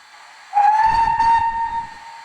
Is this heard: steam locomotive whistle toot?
yes